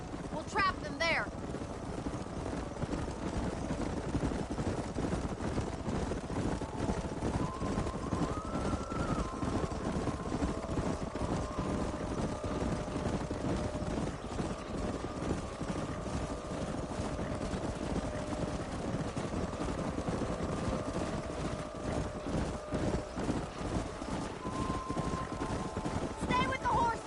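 Horses gallop in the Red Dead Redemption video game during a canyon horse drive, with a steady stream of hoofbeats running throughout under music and voices.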